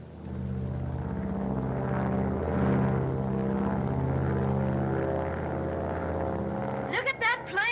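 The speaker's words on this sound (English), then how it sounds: "Look at that plane climb." A propeller airplane under radio control climbing and banking toward 6,000 feet, its steady droning engine tone sustained throughout, with a brief whistling sweep near the end.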